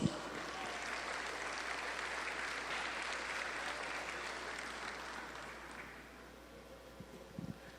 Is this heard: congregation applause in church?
yes